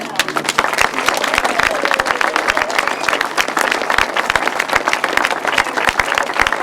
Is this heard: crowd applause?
yes